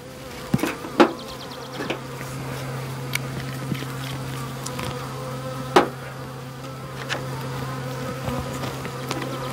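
Bees swarm and buzz steadily around a beehive being handled outdoors, a close, continuous drone with a few sharp knocks and taps mixed in.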